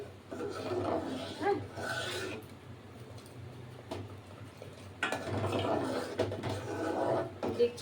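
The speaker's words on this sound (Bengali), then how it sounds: "আমি অনবরত নাড়ছি" Spoon or ladle scraping around a pot of payesh, Bengali rice pudding thickening on the stove, in two stretches of steady rasping strokes, fairly close, with a pause between.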